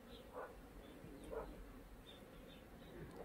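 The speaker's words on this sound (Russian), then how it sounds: "Шмель прилетел." A bumblebee buzzes among zinnias and snapdragons in a summer flower garden, a faint, soft drone rising in a few brief swells as it flies past, with no talk.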